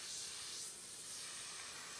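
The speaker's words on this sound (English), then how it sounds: "make sure that it's spraying reducer really well" Airbrush spraying reducer to flush it out during taxidermy work on a walleye mount, giving a steady, continuous close hiss of air and mist with no pauses.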